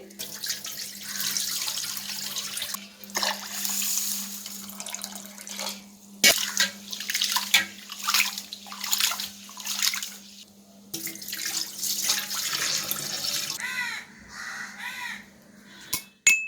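Raw rice for tomato biryani is washed by hand in water, with bursts of swishing and sloshing broken by pauses and a few knocks of the vessel, close and fairly loud, as crows caw outdoors in the background.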